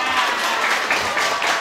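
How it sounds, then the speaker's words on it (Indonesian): Brief crowd applause at an Indonesian training session for ustadz and ustadzah. A steady, moderately loud patter of many hands continues without pause through the short stretch. "Tepuk tangan dulu."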